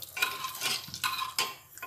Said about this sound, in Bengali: এবার সুন্দর করে নাড়িয়ে নেব